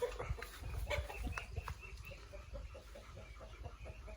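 Chickens being caught cluck softly in short repeated calls, fairly distant and faint, with a low background rumble.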